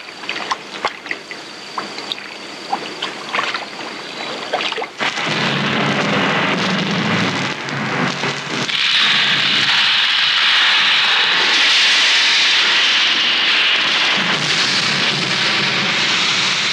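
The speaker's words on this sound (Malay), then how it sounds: "Pokok-pokok yang tenggelam diletupkan bagi membersihkan kawasan tersebut." Underwater blasts clearing submerged trees at Kenyir reservoir in 1984, heavy booming roars that surge and rumble continuously, a first muffled burst followed by a louder, sustained thundering wash of churning water.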